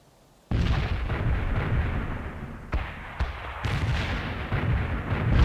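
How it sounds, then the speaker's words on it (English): A mortar barrage thunders in the World in Conflict strategy game, with a sudden loud onset followed by continuous rumbling blasts and several sharper impacts layered over the sustained roar. "Firing mortars. The barrage will reach you soon."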